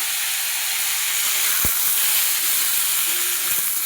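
Cut pumpkin and potato hit hot oil tempered with five-spice, cumin and black cumin, producing a loud broadband sizzling hiss with a single sharp knock midway, close and unbroken.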